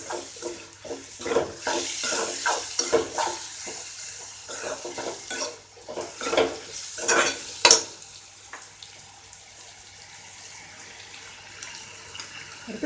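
Tomato and onion sautéing with salt in a pan for prawn thokku, repeated scraping and stirring strokes over a soft wet sizzle, with busier clatter early that then settles to a quieter simmer.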